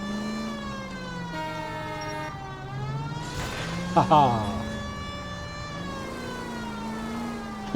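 A police car siren in the video game L.A. Noire wails with a steady, rising-and-falling tone over engine noise, and someone laughs briefly partway through.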